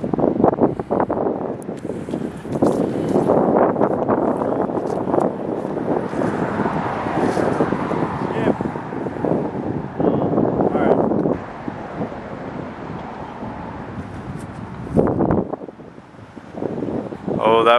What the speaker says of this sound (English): That wind tried taking it.